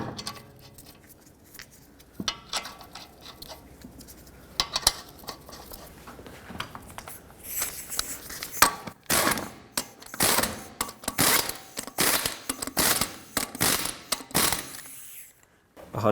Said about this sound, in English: Start on all 5 of your lug nuts, snug them up, and then torque them to 100 foot-pounds